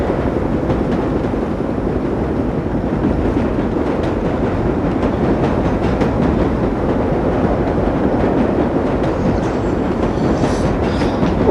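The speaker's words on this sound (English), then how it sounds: "Oh, train next to me's going." A New York Line 7 subway train rolls steadily past in the World of Subways game, a continuous loud rumble with rhythmic clickety-clack of wheels over rail joints and no pauses.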